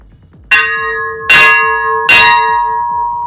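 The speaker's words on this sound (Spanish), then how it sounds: "Señor, puede tocar la campana." Three loud strikes of a bell at Casa del Ingenio Bolívar in Aragua, each clang ringing on and overlapping the next, with no voices.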